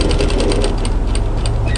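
Domestic sewing machine running steadily while stitching a sample coatigan garment toward a mitred corner, a close, continuous rapid whirring with fine mechanical clatter and no talking.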